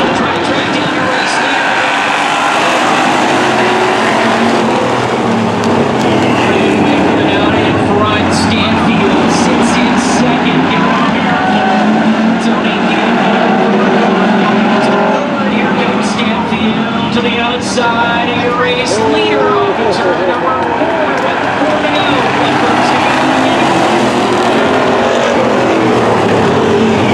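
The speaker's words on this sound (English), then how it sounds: "Tony Campbell, following through the inside, the 4 machine, as Stanfield trying to track down the race" Race cars roar around an oval track during a bombers race, a dense, continuous engine drone that swells and fades as cars pass, with an announcer talking over it.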